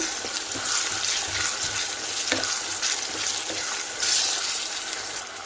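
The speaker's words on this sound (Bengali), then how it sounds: "আলুটা পেঁয়াজের ভিতরে দিয়ে আমি একটু নাড়াচাড়া করে নিব।" Potatoes being stirred into onions frying in a pan for a chickpea dish give a steady, close sizzle, broken by occasional scraping and clinking as the spoon moves through.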